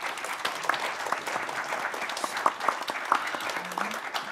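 An audience applauds the speakers at a conference session on national and international experiences, a steady, even patter of many hands clapping on its own, moderately faint and sustained throughout.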